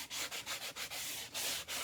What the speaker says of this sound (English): But it's just a quick overall sanding.